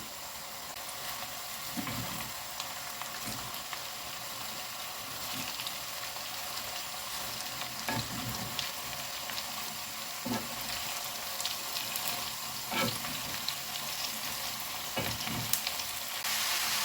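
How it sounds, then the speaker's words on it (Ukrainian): Shredded cabbage fries in a pot over medium heat, a steady sizzle with intermittent scraping thumps as it is stirred, with no voices. "Капуста потихеньку осідає, додаю другу половину продовжую смажити на середньому вогні."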